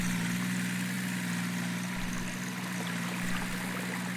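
In Farming Simulator 19, a tractor engine idles with a steady low hum beside a babbling brook whose constant trickling water fills the background, with no voices.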